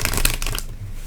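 A deck of tarot cards gets a quick shuffle, a brief close riffle and papery flutter lasting about half a second before falling quiet.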